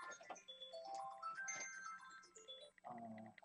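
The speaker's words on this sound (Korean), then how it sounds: "갑자기 전화가 왔네요" An incoming phone call rings out during a live-streamed Arduino tutorial, a bright electronic melody of stepping tones that plays continuously and fairly loud, alone without talk.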